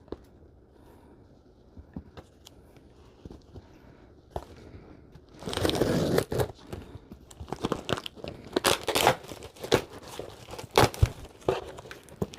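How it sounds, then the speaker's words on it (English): A taped package being opened with scissors gives sharp cuts, crinkling and tearing of tape and cardboard, quiet at first, then loud and close in irregular bursts. "I'm going to use the scissors"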